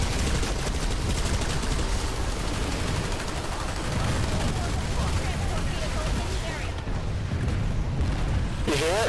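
Dense battlefield din from the online shooter PlanetSide 2, with a continuous wash of gunfire and explosions under players' voices talking throughout.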